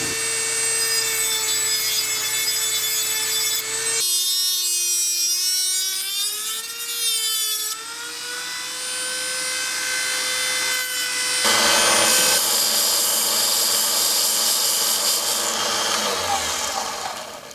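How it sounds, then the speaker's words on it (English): A Dremel rotary tool with a sanding drum deburrs the cut edges of aluminum pipe for a homemade lightsaber, giving a loud, steady high-pitched whine that rises and dips in pitch as it bites the metal, running continuously for about seventeen seconds with no talking. "use your sanding drum for your Dremel and deburr your edges"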